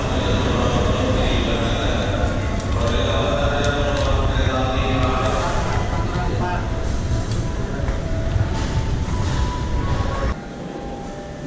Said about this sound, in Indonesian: Kereta Sancaka Yogyakarta